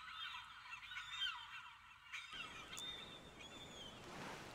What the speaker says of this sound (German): man hört keine anderen Geräusche, weil diese Möwen einfach so laut kreischen